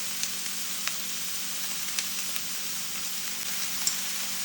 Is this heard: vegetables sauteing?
yes